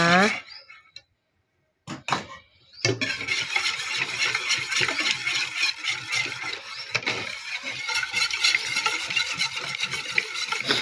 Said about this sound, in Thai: ก็แค่คนพริกแกงให้เข้ากันนะคะ